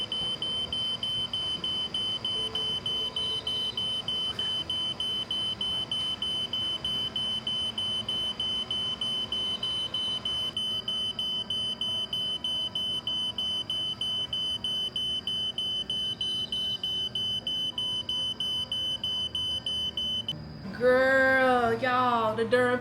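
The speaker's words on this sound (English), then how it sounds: "the darn fire alarm keep going off" A smoke alarm in a home kitchen beeps in a steady, rapid repeating pattern for a long stretch while cornbread bakes, loud and close, with a brief burst of speech near the end.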